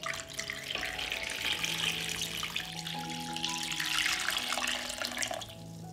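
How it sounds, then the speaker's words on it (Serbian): Cold water pours steadily into a pot of washed pork trotters, making a continuous close rushing and splashing sound that swells slightly as the pot fills. "Prelit ću butkice sa hladnom vodom."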